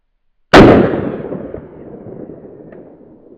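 A single sharp gunshot from a tiny revolver fired at a can of Spam, a loud close crack followed by a long fading ring with no talking.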